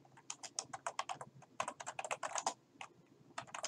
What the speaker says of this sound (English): Type weekly schedules